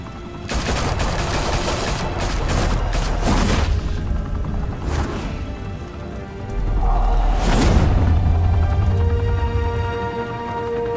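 Gunfire erupts in the Batman: The Telltale Series video game, with dense rattling bursts and heavy booms over a steady backdrop, loud throughout with a louder surge near the end.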